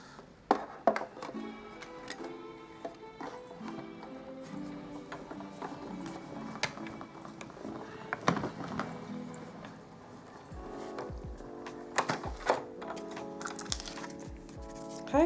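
Craft punch cutting purple posy shapes from paper, a series of sharp irregular clicks and taps close by, with quiet handling rustle between them.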